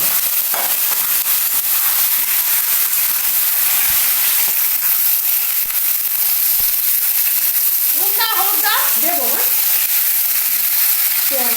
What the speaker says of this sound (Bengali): আমি একটু ভেজে নিচ্ছি তেলে আমরা যখন মাছ ভাজি চিকেনটাকেও একটু ভেজে নিচ্ছি